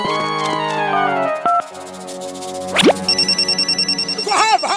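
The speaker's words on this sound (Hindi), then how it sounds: "आपने रिबन काटा नहीं और हेल्पलाइन की बेल बजी" In a Hindi cartoon, a helpline telephone rings with a bright electronic warble that repeats in quick pulses near the end, after cartoon sound effects, a rising whistle-like sweep and a musical score.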